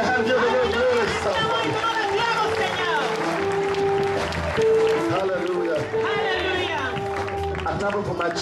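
A church congregation claps and cheers loudly through a continuous wall of crowd noise, with voices chanting and singing over the steady clapping.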